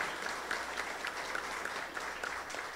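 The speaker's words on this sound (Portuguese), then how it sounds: "Vamos aplaudir o Senhor." Steady applause from a church congregation at a solemn evangelical session, a dense even wash of many hands clapping at moderate volume, somewhat distant, with no talk over it.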